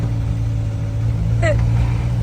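Engine of a 1975 Ford Transit MK1 diesel van, old and rattly and seeming fuel-starved, as a steady low drone heard from inside while driving, with a brief voice mid-clip.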